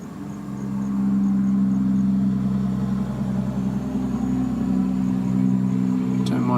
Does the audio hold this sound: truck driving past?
yes